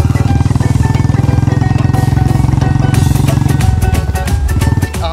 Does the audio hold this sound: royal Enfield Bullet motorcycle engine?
yes